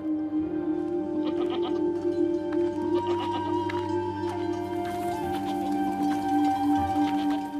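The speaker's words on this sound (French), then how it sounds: "Un homme garde son troupeau de chèvres." A herd of goats bleats in the Gobi desert, with overlapping calls of varied pitch from several animals, some near and some farther off, continuing steadily under a droning background.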